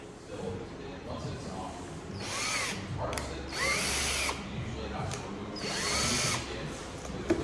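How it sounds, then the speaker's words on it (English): A power drill whirs in several short bursts, spinning up and stopping, fairly close, with faint rattling and mechanical noise between. "We got the drill going really nice."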